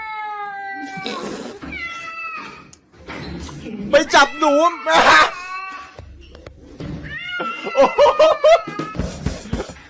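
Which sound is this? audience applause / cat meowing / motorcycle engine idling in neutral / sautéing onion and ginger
cat meowing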